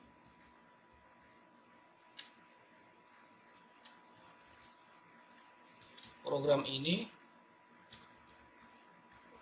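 Someone types a C++ program on a computer keyboard: scattered, close key clicks in short bursts, with a denser run of heavier keystrokes partway through.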